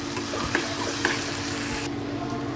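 Garam masala is stirred into a simmering egg curry in a pan: a continuous close sizzle with a couple of sharp spoon knocks, cutting off abruptly near the end, no voices.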